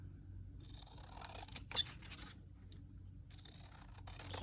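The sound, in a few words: cutting paper with scissors for junk journal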